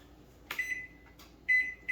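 An oven timer being set while baking an apple pie, a few short electronic beeps at irregular intervals between faint button presses, close and quiet with no talking.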